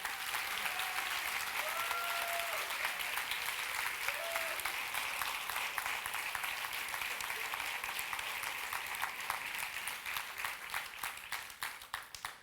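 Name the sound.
audience applause for a retiring teacher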